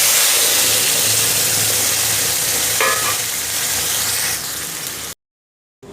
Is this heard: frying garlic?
yes